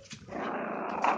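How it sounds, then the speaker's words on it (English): A female puppy growls in a low, continuous rumble for about a second, close by, rising slightly at the end. "This one is the only one growling."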